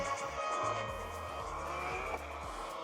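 A steady engine whine from the racing game Real Racing played on a tablet, with tire screeching, continuous and fairly loud, with no talking.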